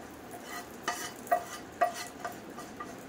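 Curry leaves tempering in a pan for South Indian banana stem chutney: a soft, steady sizzle under a few distinct stirring clinks and scrapes from a spoon, close and fairly quiet.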